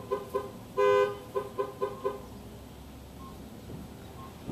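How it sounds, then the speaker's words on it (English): A vehicle horn toots in a rhythmic series of short honks with one longer blast, a chicken-like pattern heard nearby outdoors on the road. "was that a chicken honking horn?"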